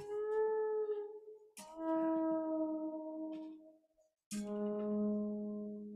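An electric guitar plays long, sustained bent notes that slide and waver in pitch, imitating the deep calls of a whale or an elephant, in three separate swells with brief gaps between them.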